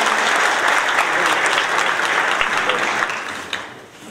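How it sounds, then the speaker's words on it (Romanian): Dense, enthusiastic audience applause fills a hall at a Romanian political party's candidate launch for the 2016 parliamentary elections, heard loud and close, then thinning and fading out toward the end. "Aplauze pentru domnul Antal!"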